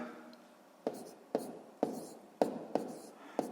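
Pen strokes on paper while numbers are written by hand for a sixth-grade multiplication exercise, with six sharp scratchy bursts at a fairly steady pace, each fading quickly, close and moderately loud with no talking.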